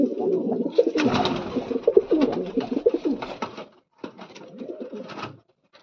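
Several pigeons coo close by in low, throaty, repeated bursts, briefly pausing before the cooing resumes.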